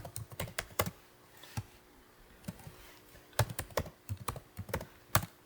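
Keys clatter on a computer keyboard while a turtle graphics square command is entered, in bursts of quick clicks with a short pause in the middle and no talk.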